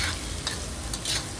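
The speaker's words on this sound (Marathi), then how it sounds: "कांदा चांगला तेलात परतायचा आहे" Onion frying in oil on a tawa for prawn masala, a close steady sizzle with bursts of scraping as it is stirred, no talk.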